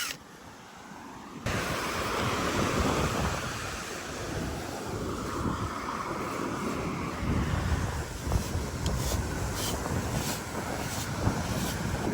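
Ocean waves washing onto a beach under gusting wind, a broad continuous roar with wind buffeting the microphone, loud and close, starting abruptly after a quieter moment.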